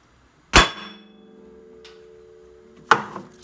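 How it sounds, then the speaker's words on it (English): Two sharp metallic hammer strikes on the end of a puller, removing a part from an Arctic Cat ProClimb 800 snowmobile engine, a couple of seconds apart, with a ringing tone lingering after the first and a faint tap between them. "I'm going to take my hammer, tap it on the end, see if it'll pop off"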